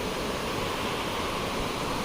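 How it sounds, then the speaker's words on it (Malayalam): Perumbankuthu waterfall at Mankulam, a dense, continuous roar of falling water, steady and fairly loud with no voices over it. "ഇതാണ് പെരുമ്പൻകുത്ത് വെള്ളച്ചാട്ടം"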